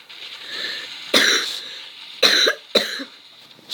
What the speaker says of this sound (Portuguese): Agora eu tô com uma tosse.